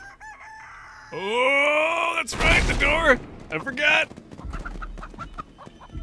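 Crowing and clucking chicken calls from the video game Chicken Feet come out loud and close in drawn-out cries and brief squawks, while someone talks excitedly over them.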